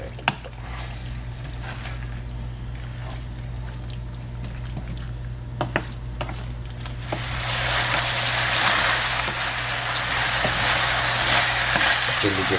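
Chilli chicken sauce bubbles and thickens in a pan, a continuous soft sizzle and bubbling that grows louder and brighter partway through, with occasional light clinks.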